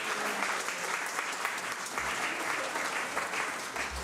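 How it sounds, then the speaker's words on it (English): An audience applauds a church music group called the Strings of Things, with dense, steady clapping from a crowd filling the room for several seconds. "give our strings of things another round of applause"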